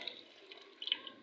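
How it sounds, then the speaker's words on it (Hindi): Water poured into a pot of black chickpea curry, a soft trickling and splashing that runs steadily for about a second with a brief louder splash near the end, fairly close and on its own. "पानी लगा रही हूँ मैं वही जो इनके अंदर था"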